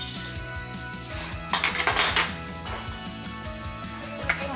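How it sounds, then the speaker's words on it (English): A small spatula stirs a Thanksgiving dessert mixture in a bowl, making light clinks and scrapes in irregular bursts over a steady tonal background. "I am just stirring right now. I mix it all up."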